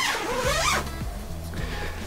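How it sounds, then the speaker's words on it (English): A zipper runs along the door of a Kodiak Canvas flex bow 10x14 canvas tent, opening in one long continuous pull that rises and falls in pitch, then a few shorter tugs follow, all close up with no one talking. "I'll go ahead and unzip this here."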